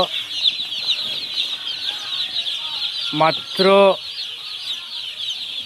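About five thousand newly arrived chicks on a poultry farm with gas brooders running keep up a dense, continuous high peeping, steady and close, while a voice briefly speaks partway through.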